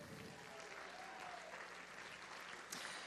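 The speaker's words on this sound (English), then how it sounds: "Give yourselves a round of applause for being here tonight" Applause from a university vegetarian event audience after an evening talk, a dense wash of clapping throughout that sounds moderately distant and fills the whole stretch.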